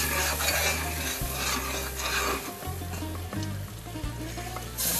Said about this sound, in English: Mix the flour and the butter.